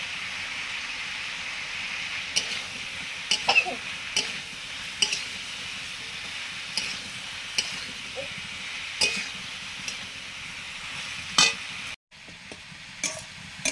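Large chunks of chopped cabbage fry in a wok for vegetable khichuri, with a steady close sizzle and a scrape of the stirring spoon every second or two, one louder clatter near the end.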